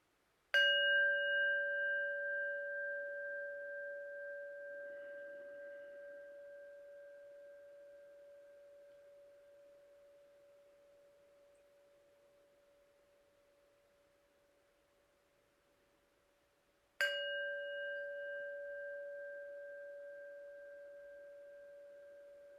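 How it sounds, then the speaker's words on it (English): A meditation bell is struck twice, each a clear ringing tone with bright overtones that decays slowly over many seconds before the second strike rings out the same way. "I'll close our practice with 2 sounds of the bell."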